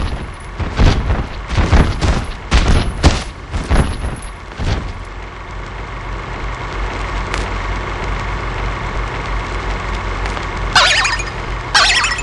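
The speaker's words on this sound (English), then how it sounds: "Hey, look at the toy cannons." Toy cannons firing in the Kingdom Hearts 2 video game: a quick series of sharp booming shots, roughly eight in the first few seconds, over a steady game ambience, with a couple of bright chiming effects near the end.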